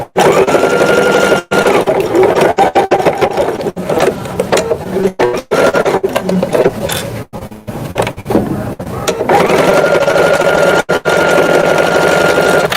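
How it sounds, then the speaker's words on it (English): A sewing machine stitching zipper tabs for a bag, running in loud, fast mechanical bursts with several short stops and restarts, close by and nearly alone. "It's a great machine for bag making or quilting."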